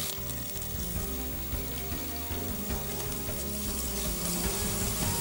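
Ginger garlic paste and green chillies frying in a pan for a mixed vegetable curry, giving a loud, constant crackling sizzle that stays close and even throughout with no speech.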